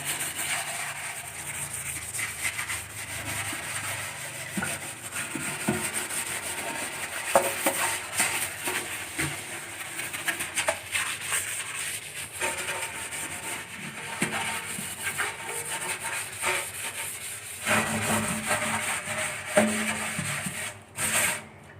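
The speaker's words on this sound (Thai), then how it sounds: "หลังจากนั้นเราก็ใช้ ฝอยแบบนี้ ฝอยเหล็กแบบนี้นะครับขัดอีกอีกครั้งหนึ่ง" Steel wool rubs back and forth across a kitchen sink basin in a continuous, fairly close rasping scrub with uneven strokes and no talking.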